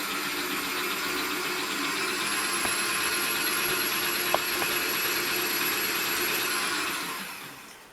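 Electric mixer running steadily as it combines carrot cake batter thick with grated carrot and fruit, a continuous close whirring drone that holds for several seconds and then winds down, with no talk.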